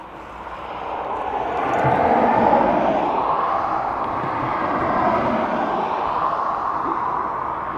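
A Turkish Airlines airliner arriving at Dublin Airport passes with a broad, steady engine roar that swells to a peak and then holds at a slightly lower level, heard alone without talk.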